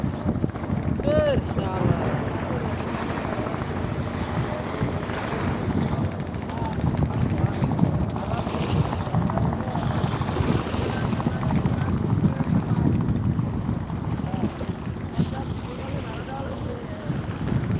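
A ship passes nearby on the water at Chittagong, heard as a low rumbling engine drone under heavy wind buffeting and wave wash, with a voice talking now and then.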